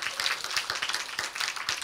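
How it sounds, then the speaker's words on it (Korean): A church congregation claps in applause during a sermon, a dense, fairly even patter of many hands at moderate distance, with no voices over it. "우리 하나님 앞에 영광의 박수 돌리겠습니다"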